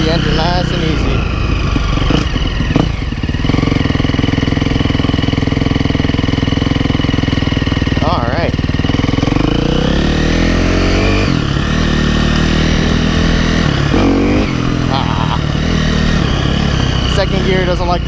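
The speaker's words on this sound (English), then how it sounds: "Keep the engine nice and easy." 2011 KTM 350 SXF dirt bike engine running hot, a loud close rumble mostly at idle with a few light revs and pitch swells, someone talking over it at times.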